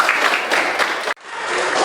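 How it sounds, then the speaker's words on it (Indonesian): A high school class in SMA Negeri 1 Lenteng claps together during an ice-breaking moment, a short dense burst of applause that cuts off abruptly and is followed by a brief fainter patter. "Tepuk tangan buat kita."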